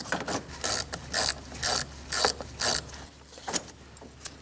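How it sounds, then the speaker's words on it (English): A ratchet with a 10mm socket loosens the negative battery terminal nut on a Toyota Corolla, giving close rhythmic bursts of rapid clicking repeated about six times, then a few lighter ticks. "Using a 10mm socket, we're going to remove our negative battery terminal."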